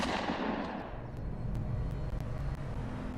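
Gunfire from turrets in Sanctuary in Fallout 4, heard as a rapid string of sharp distant shots over a dense rumbling game background, no speech.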